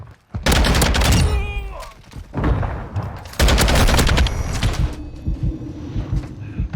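Heavy automatic gunfire in Call of Duty Modern Warfare II, loud bursts of rapid shots with brief gaps between them, and players talking over the action.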